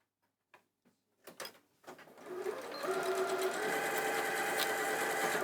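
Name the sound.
sewing machine sewing around the outside of a bag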